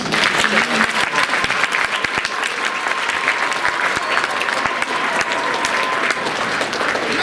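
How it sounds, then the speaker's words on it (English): Audience applause for children after a Black History show performance, a sustained, loud round of dense clapping lasting several seconds, with faint crowd murmur beneath. "Give the kids another round of applause."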